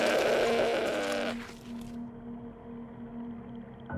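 A goat bleats in a wavering, drawn-out cry, used as a sound effect in a spoken horror story set in a remote rural place, heard alone and fading out after about two seconds.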